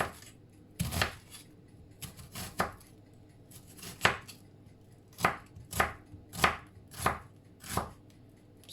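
A knife chops a large onion on a cutting board, with about a dozen crisp, close thuds coming in irregular bursts and short pauses in a quiet kitchen.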